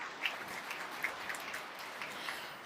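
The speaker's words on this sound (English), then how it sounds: "Go ahead and give them a round of applause." Soft audience applause welcoming company executives at a business talk; light, scattered clapping with a few distinct claps standing out, faint and somewhat distant, no voices.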